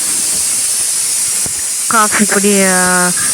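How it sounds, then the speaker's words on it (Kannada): Loud, steady steam hiss from a pressure cooker, joined near the end by a brief wavering whistle tone. "ನೋಡಿ ಕುಕ್ಕರ್ ಕೂಗ್ತಾ ಇದೆ"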